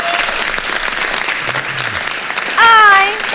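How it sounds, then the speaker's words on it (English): Applause-like clapping mixed with crowd noise runs steadily under a voice, followed near the end by a short, louder burst with a pitched vocal sound. "I'll clap for that."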